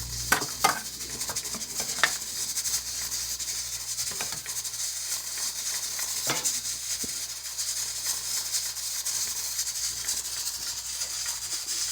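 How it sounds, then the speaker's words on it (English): Brown straw fish frying in a pan, a steady hiss and sizzle with occasional clinks and scrapes of utensils against the pan, close and continuous with no talking. "So this is how I cook my brown straw fish."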